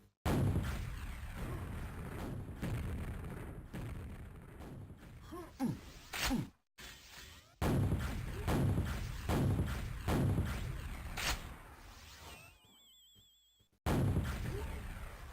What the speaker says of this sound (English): those fucking rockets from exactly that place from Rasta.